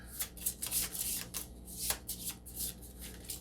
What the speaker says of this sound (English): We'll just shuffle those up